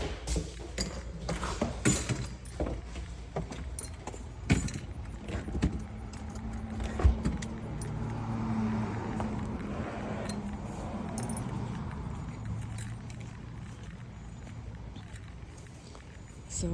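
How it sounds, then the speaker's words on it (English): Keys jangle and rattle in a house's door lock, metallic clinks scattered through the first several seconds, with people talking faintly nearby. "And then keys in the door."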